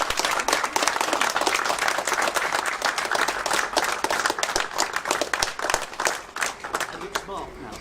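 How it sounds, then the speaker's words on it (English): An audience claps at a community event in Hampton Wick, Richmond upon Thames, a dense burst of applause that carries on steadily and tapers toward the end, with a voice speaking over it. "Give them a round of applause."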